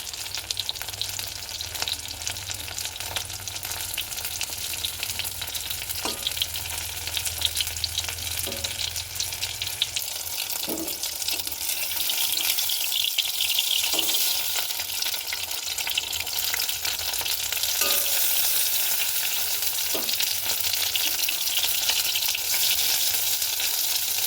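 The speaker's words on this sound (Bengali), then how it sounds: "আর একটু ভাজবো।" Shrimp pakora deep-frying in hot oil gives a steady, dense sizzle throughout, with a few light clinks of a utensil scattered over the continuous bubbling.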